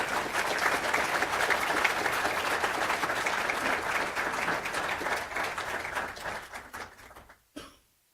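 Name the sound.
applause for honorees at college honors night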